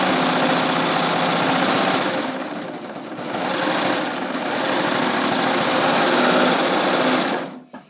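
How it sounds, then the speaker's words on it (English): A BabyLock Ovation serger stitches stretchy knit fabric at its neutral setting, a steady, loud mechanical whir that runs continuously, easing slightly midway, then stops abruptly near the end. "So I'm going to stitch this, stretchy knit, and I'm going to stitch it at the normal or neutral setting."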